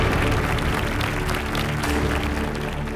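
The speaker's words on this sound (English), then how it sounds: "Let the applause not stop, ladies and gentlemen." Continuous applause from a crowd at the Mr India 2025 grand finale pageant, a dense, steady wash of clapping with music or voices faintly mixed beneath.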